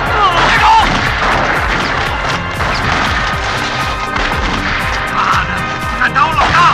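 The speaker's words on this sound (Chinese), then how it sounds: "警察抓住机会举枪反击。" Border police return fire in a crime film, with loud, rapid gunshots cracking one after another amid other battle noise, partly under a voice.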